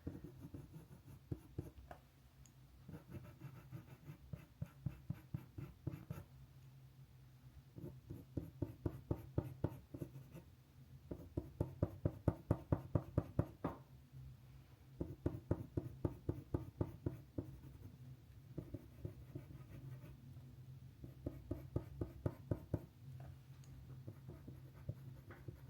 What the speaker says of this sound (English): So you want to do more controlled back and forth motions and hold the pencil more towards the tip.